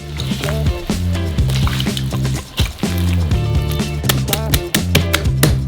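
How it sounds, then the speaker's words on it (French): Hands kneading dough with about 300 ml of oil for a giant Nutella Go snack, giving loud, close squelching and slapping sounds against steady background music, without talk. "Versez 300 ml d'huile et pétrissez à la main."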